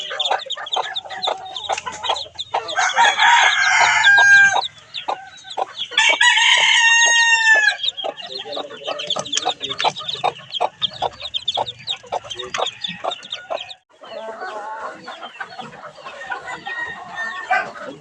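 Chickens cluck and squawk close by in a busy, continuous stream, with a rooster crowing loudly a couple of times among them.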